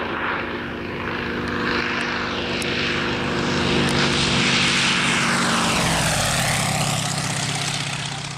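A Russian propeller plane with a classic radial engine drones loudly and close, a steady throbbing roar that shifts downward in pitch near the end as it passes by.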